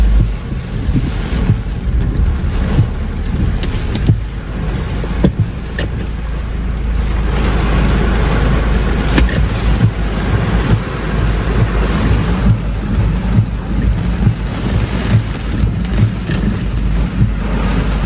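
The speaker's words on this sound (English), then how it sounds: "we are experiencing some heavy winds and some heavy rain as well" A heavy tropical storm roars with strong wind and heavy rain, a dense, loud, constant rush with gusty buffeting on the microphone and no voices.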